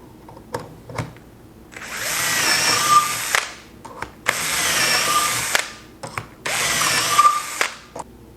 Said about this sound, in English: after the first batch of holes have been drilled